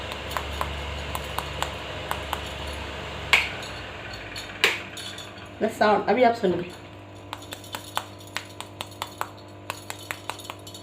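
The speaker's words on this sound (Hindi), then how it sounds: "आपको आवाज़ सुनाई दे रही है टिक्की की।" A crispy, stuffed aloo tikki is tapped against a plate in a home kitchen, making a run of sharp clicks and light clinks, with a brief crunchy flurry midway and someone speaking in between.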